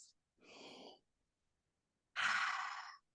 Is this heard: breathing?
yes